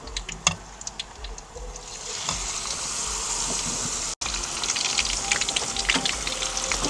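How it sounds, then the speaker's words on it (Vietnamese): Food frying in a pan of hot oil, three pieces filling the pan over low heat, giving a steady crackling sizzle throughout with sharper pops and spatters, fairly close, with no talk. "Chiên có 3 cái là hết cái chảo rồi đó nè."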